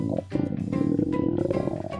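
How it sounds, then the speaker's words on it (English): A low, growling rumble rolls on for a couple of seconds, deep and continuous like a loud stomach gurgle, with no talking. "Whoa, was that your stomach?"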